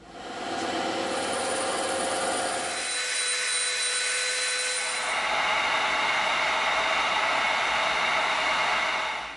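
Power saw cutting through a 48mm wooden dowel, a loud continuous whining buzz whose pitch drops under load partway through and then rises again.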